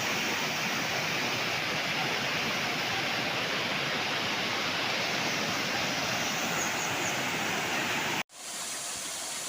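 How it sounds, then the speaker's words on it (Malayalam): A small waterfall on a hillside stream in Kerala gives a steady, dense rushing roar throughout, loud and close, with no voices, cutting out abruptly near the end before resuming. "ചെറിയൊരു വെള്ളച്ചാട്ടം, പക്ഷേ അതിൻ്റെ മനോഹാരിത വ്യത്യസ്തമാണ്"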